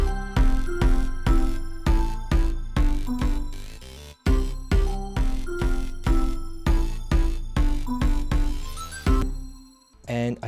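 Sustained synth chords hit in a steady rhythm, each one decaying before the next, with a brief dropout midway and a quick fade at the end.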